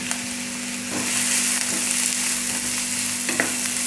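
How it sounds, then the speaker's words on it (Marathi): Finely chopped onions fry in a pan of hot oil for anda bhurji, giving a steady, close, loud sizzle with occasional scraping stirs and no talk. "आता आपण यामध्ये कांदे टाकून घेऊ. बारीक चिरलेले कांदे टाकून घ्यायचे."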